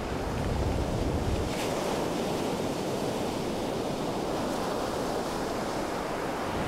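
Ocean surf breaks along the shore near the Cape Hatteras Lighthouse, a steady, loud, close wash of waves with wind noise, a heavier rumble at the very start.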